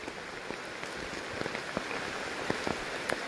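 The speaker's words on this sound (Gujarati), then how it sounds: "અત્યારે ધોધમાર વરસાદ પડે છે અને આપણી પાસે છત્રી પણ છે નહીં" Heavy rain pours down outdoors in a steady hiss, with distinct drops tapping nearby surfaces at irregular intervals and no voices.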